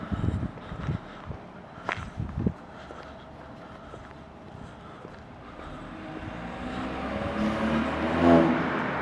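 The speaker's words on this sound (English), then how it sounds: "so we got the downpipe installed. Sounds great, works great." BMW 328i F30 fitted with a VRSF catless downpipe, its exhaust heard as a low rumble from outside. A few knocks and footsteps come first, then the engine note swells to a louder roar near the end.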